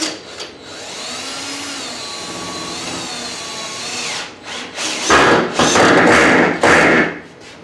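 A power drill driving screws into a roof panel of a Model 120 shelter kit: a whining motor that rises and dips in pitch, then short, harsh, rattling bursts as screws bite in.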